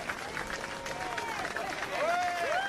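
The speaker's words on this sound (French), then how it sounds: "on les applaudit bien fort" Audience clapping for two contestants coming up onto the stage at a competition event, a steady patter of applause with an excited voice calling out over it.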